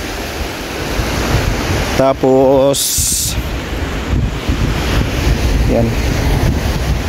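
Ocean waves and surf wash steadily at Agno Umbrella Rock beach, a continuous broadband roar with wind buffeting the microphone, while a person talks briefly over it.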